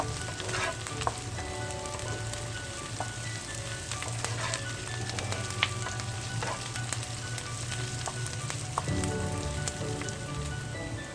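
Curry leaves and onions fry in a pan with a constant loud sizzle and crackle, with occasional scrapes and clicks of stirring, and no voices.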